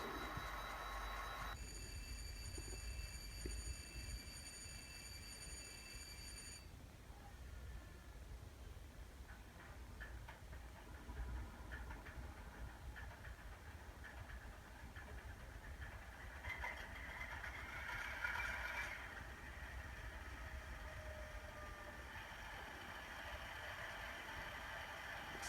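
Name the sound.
GE 7FDL16 diesel engine sound from Tsunami2 model train decoder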